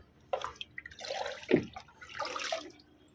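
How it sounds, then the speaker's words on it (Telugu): Water poured onto the soil of potted flowering plants: a few soft, close splashes and trickles arrive in uneven bursts with quiet gaps between them. "ఇలా మన సాయిల్ భాగంలో ఈ వాటరింగ్ అనేది చేసేసుకుందాము"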